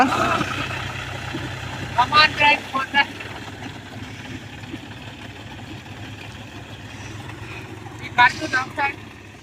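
A low tractor engine idles with a steady rumble under people talking in a paddy field, then the hum drops away partway through.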